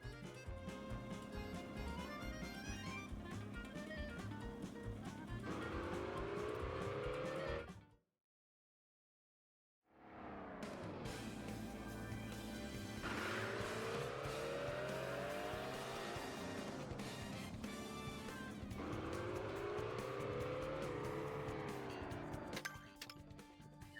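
Kart engines whine and tires squeal through an open-world race in the video game Mario Kart World, loud and continuous over music, with a brief silent gap partway through.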